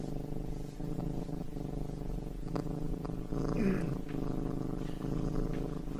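A cat in Farm Sim 25 purrs in a low, steady, rhythmic rumble that continues throughout. The purring is close and soft, and a brief higher sound rises near the middle.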